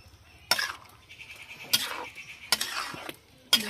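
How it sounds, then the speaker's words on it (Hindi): Spoon scraping and clinking against a bowl while mayonnaise is stirred into a sauce, four sharp metallic strokes at roughly one-second intervals with quieter wet mixing between them. "बहुत अच्छे से इसको मिक्स कर दूँगी ताकि अलग अलग नज़र ना आए ये बिल्कुल भी।"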